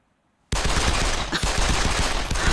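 Rapid gunfire from an animated cartoon bursts in suddenly after a short silence, then keeps going as a loud, dense, continuous volley for about two seconds.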